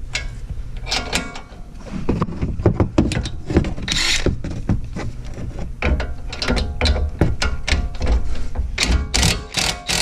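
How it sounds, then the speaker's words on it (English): Ratchet fitted with a wobble socket turning a bolt on an old high-mileage BMW, giving quick bursts of close mechanical clicking, loud and alone, broken by short pauses. "Little wobble socket on here."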